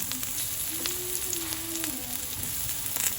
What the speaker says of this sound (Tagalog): Gigisa natin yung ating bawang.